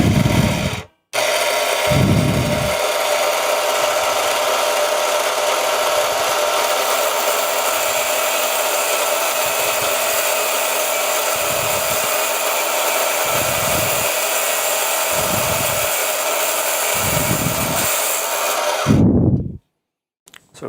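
A Proxxon KGS 80 chop saw whines loudly and steadily for nearly twenty seconds, its motor running continuously while the blade bites through stock in a series of regular, rhythmic cutting strokes, then cuts off abruptly.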